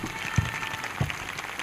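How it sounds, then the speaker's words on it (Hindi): A church congregation at an Easter celebration meeting claps together in applause, a dense, steady wash of many hands with a couple of heavier thumps standing out, fairly close and continuous. "ताली बजाएंगे"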